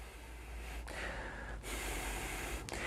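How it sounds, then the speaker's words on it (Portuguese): A person breathes out in several slow, prolonged exhalations, close to the microphone and fairly soft. Each airy rush runs for about a second, with brief pauses between them. "eu foco na expiração e faço várias expirações prolongadas"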